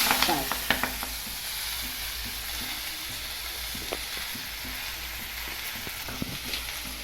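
Spring onion greens with turmeric and red chili powder fry and sizzle steadily in a hot pan over low flame, with a constant crackling hiss and a few scattered stirring clicks, no voices.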